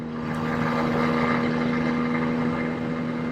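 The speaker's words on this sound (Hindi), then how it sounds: "इसका इंजन काफी स्मूथ है" Bajaj Pulsar N160 motorcycle, a 2024 model with USD fork, with its engine running steadily while being ridden; a continuous close hum with a strong low drone and broadband wind-like rush, no talk.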